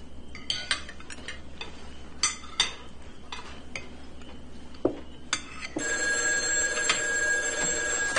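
An old-style telephone bell rings several times in an indoor room, loud and close, its ringing bursts spaced apart before one long sustained ring at the end.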